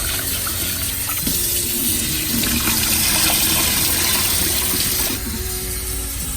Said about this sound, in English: Today I'm gonna add a little bit of extra water.